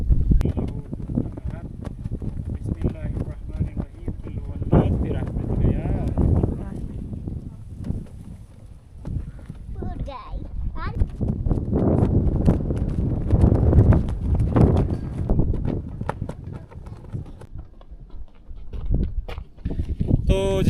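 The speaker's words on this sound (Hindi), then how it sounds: "काफ़ी तेज़ हवा चल रही है" Strong outdoor wind buffets the microphone in a steady low rumble, with gusts swelling and easing over about twenty seconds during an Eid hike, and a voice talks over it.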